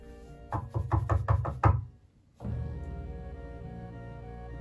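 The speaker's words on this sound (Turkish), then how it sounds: "Arkadaşlar kapı çalıyor." Indoors in a fifth-floor office, a rapid series of about six knocks raps on a door, fairly close, then stops and gives way to a steady background hum.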